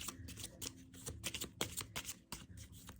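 Tarot cards are laid out in a spread with quick, soft slaps and light shuffling rustles, close and faint, in a quiet room.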